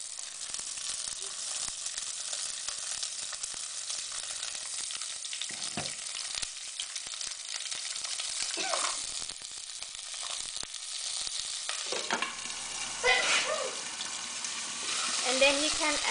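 Crab and garlic stir-fry in a hot pan for a Thai curry-powder dish, giving a continuous sizzle and crackle broken by a few louder scraping stirs near the end, with no voices.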